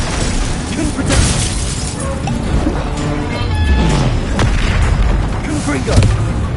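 Confringo blasting-curse explosions from the Hogwarts Legacy video game, a series of loud booming blasts and crashing impacts layered with spell-casting effects and game music over the whole stretch.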